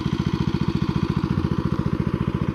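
Honda engine driving a water pump in a rice field, a close, loud, steady chugging putter with rapid regular firing pulses and no talk.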